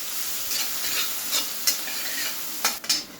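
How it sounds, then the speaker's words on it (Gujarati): Green chili paste sizzles in a pan while a spoon stirs and scrapes it in a few quick strokes. The frying is faint and sounds close. "આ પેસ્ટને તમારે સરસ સાંતળી લેવાની છે આ રીતે."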